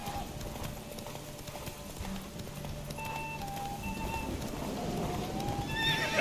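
Roach the horse gallops in The Witcher 3, hooves clip-clopping in a steady rhythm under music, with a whinny rising near the end.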